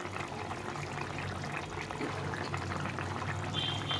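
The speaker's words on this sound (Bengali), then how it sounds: "জলটা ফুটে গেছে এখন আমি মাছগুলো দিয়ে দেবো" A pot of water on a rolling boil for rohu fish curry, bubbling steadily and fairly softly with a dense, continuous hiss and no voices over it.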